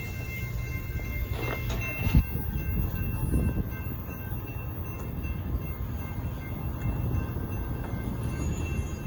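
A northbound Amtrak Texas Eagle 22 passenger train passes a level crossing at Stassney Lane in Austin, Texas, its steady low rumble of rolling cars running continuously from start to end at moderate distance.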